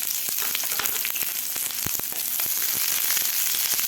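Two medium onions, sliced lengthwise, fry in a spoonful of oil in a pan, a loud dense sizzle with frequent sharp crackles and pops, close and continuous with no talking.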